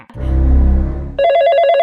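A telephone rings in a Hindi comedy sketch: a low rumbling tone gives way to a loud, bright, repeating electronic ring that continues to the end, with no talking.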